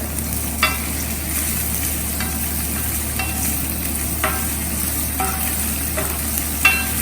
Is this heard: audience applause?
no